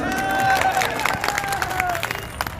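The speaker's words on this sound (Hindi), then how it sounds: "तालियां में बजा देता हूं।" A crowd at a political rally applauds in a lively burst of scattered claps mixed with cheering voices, the clapping uneven and layered under a loud, tonal voice.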